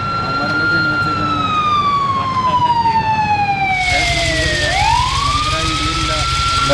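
A police car siren in a mobile horror video game wails in long falling and rising sweeps, loud and close, with someone talking over it.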